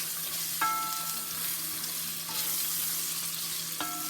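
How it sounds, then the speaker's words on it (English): Marinara sauce with vegetables being stirred in a pot, a steady sizzle and bubbling underneath with three distinct metallic scrapes of a utensil against the pot, spaced apart, no talking. "And give this a stir."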